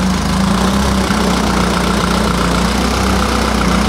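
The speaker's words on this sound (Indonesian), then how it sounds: "Suara mesinnya biasa aja. Iya. Karena ya cuma 4 silinder." A four-cylinder car engine idles in a garage, a loud, steady, even rumble with no change in pace and nothing else audible.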